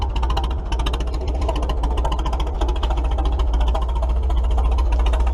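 An old Wards snowblower engine runs steadily close by with a rapid, knocking, uneven idle, letting its fuel run out, loud and alone throughout.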